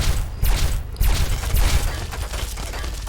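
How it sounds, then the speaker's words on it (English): Gunfire crackles in Fallout 3, a dense spray of rapid shots and low booms that continues steadily throughout with no pauses. "Who else is shooting at me?"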